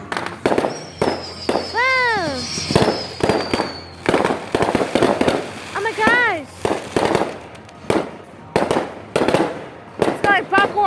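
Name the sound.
fireworks exploding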